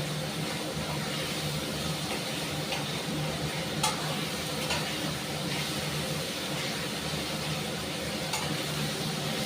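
Golden fried onions sizzle in a pan as they are stirred with masala, a steady close frying hiss with occasional scrapes and clinks of the spoon, with no talking.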